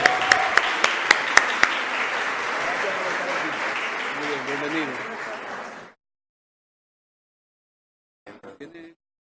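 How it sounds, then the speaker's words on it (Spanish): An audience at a medical conference bursts into applause for a speaker, a few sharp claps at first, filling the room for several seconds before cutting off; faint voices follow. "Un fuerte aplauso para el doctor."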